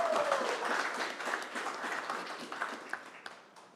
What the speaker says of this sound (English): I think that deserves a regional round of applause